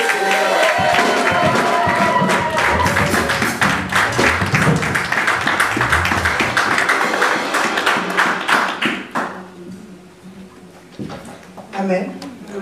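A church congregation applauds and cheers loudly and steadily to welcome someone speaker, with dense clapping and shouts that drop away to quieter murmurs near the end.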